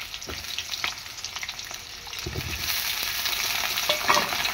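Food poured into hot oil in a home kitchen, a dense crackling sizzle with bright spattering pops and a few soft stirring scrapes, close and steady throughout, no talking.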